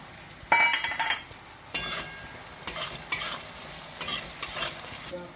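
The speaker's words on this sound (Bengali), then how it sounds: "এর মধ্যে একটু বেগুনটা ভেজে নেড়ে চেড়ে নেবো" Eggplant frying in oil with black cumin seeds, stirred in bursts: sharp spatula scrapes and clinks against the pan over a soft continuous sizzle, close and distinct.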